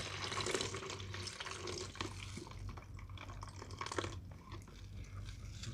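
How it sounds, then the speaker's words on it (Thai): Brine poured out of a jar of pickled mango, a soft splashing and trickling stream with small drips and clinks, quiet and close with no voices. "ตอนนี้เราก็จะเท เทน้ำออกเลยครับ น้ำเกลือออกแล้วครับเทออกก่อน"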